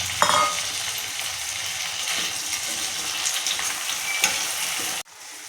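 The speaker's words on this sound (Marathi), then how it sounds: "आत्ता मटर तळून घेतले त्याच्यात आत्ता मटर नरम येईल" Peas frying in a pan with browned onion for matar paneer make a loud, continuous sizzle with stirring, ending abruptly as the heat drops.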